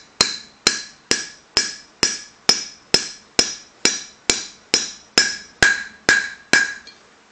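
Hammer strikes driving an outer bearing race, chilled in a freezer, into the hub of a 1997 Volkswagen Cabrio: about fourteen sharp, evenly spaced metallic blows, loud and close, each ringing briefly before the next.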